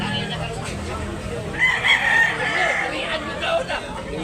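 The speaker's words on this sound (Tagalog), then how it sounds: "Gandang manok." A rooster crows somewhat in the distance at a rooster market in Tabunok, Talisay, Cebu, over steady background noise and a murmur of voices.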